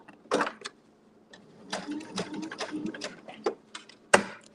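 A sewing machine free-motion quilting a boho floral quilt block runs in short bursts of stitching separated by brief pauses, close and moderately loud, with a sharp clack near the end.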